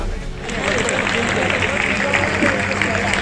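Audience applause at a ceremony where Chief Minister Dr. Mohan Yadav unveils a Maa Narmada statue and inaugurates the square's beautification works; dense, steady clapping swells after a brief quieter opening and continues throughout, with a voice over it.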